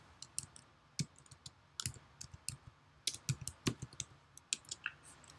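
Computer keyboard keys and mouse buttons click in quick irregular bursts during copy-pasting, close and crisp, with short pauses between clusters and no talking.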